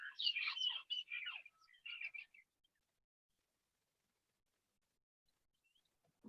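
Small birds chirp in a quick, busy flurry of high twittering notes for a couple of seconds, fairly faint, then fall silent.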